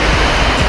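Hanawi Falls on the Road to Hana in Maui, with several waterfalls pouring into a swimming pool, fills the air with a steady, loud, close rushing roar of falling water and no voices.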